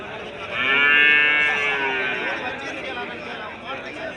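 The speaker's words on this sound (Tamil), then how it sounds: "பத்து மாத கண்ணுக்குட்டியிலேருந்து ஐந்து மாத கண்ணுக்குட்டி வரைக்கும் இருக்குங்க சேலம் முத்தநாயகி பெருமாள் கோயில் மாட்டுச்சந்தை" A Jersey calf, between five and ten months old, moos loudly and close at a temple cattle market in Salem, one long drawn-out call with voices chattering around.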